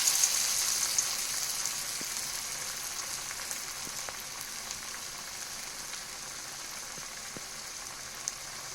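Beetroot vadai patties sizzle and crackle steadily in hot oil, a soft, continuous frying hiss with occasional faint pops and no talking.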